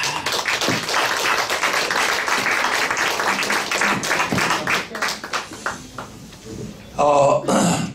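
Applause ripples through a press conference audience of Vietnam War veterans, steady clapping with a speaking voice over it, thinning out before a brief louder burst near the end.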